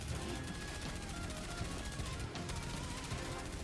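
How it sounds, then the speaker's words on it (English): Rapid automatic bursts of silenced SMG fire from a video game trailer crackle steadily through a dense wash of background noise and music. "Oh, they got the silenced SMG."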